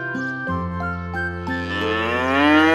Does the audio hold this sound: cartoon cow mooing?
yes